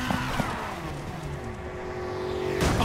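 A Need for Speed Heat race car holds a steady high engine note in sixth gear, a constant drone that ends in a sudden louder burst.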